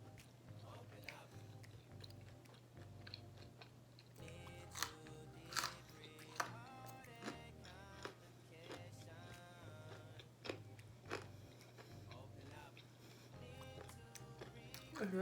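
Close-up crunching and chewing of crunchy pizza, with irregular crisp bites and mouth noises over a low background hum.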